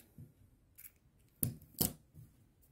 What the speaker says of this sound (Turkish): Şimdi burada ipimi kesiyorum.